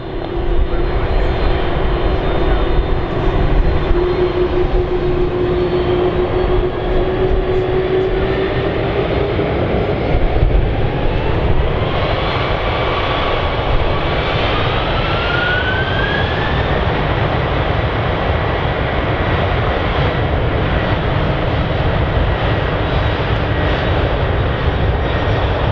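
A US Air Force Lockheed C-5M Super Galaxy military jet takes off from runway 34 at Zurich Airport, its engines a loud, steady roar throughout, with a rising turbine whine as the thrust builds.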